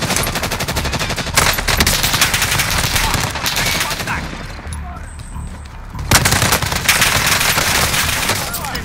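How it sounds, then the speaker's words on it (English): Heavy gunfire in Call of Duty Warzone, with dense rapid automatic bursts that continue loud for several seconds, a brief quieter lull, then renewed sustained shooting. "Receiving hostile fire."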